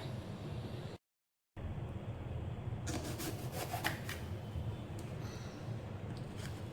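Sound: knife cutting vegetables on a board

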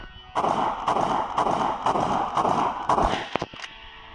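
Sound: gunfire in a video game

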